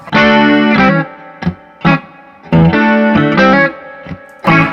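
Guitar run through a Line 6 HX Effects processor, distorted and chorused, playing loud held chords in two phrases with brief plucked notes between them, no voices.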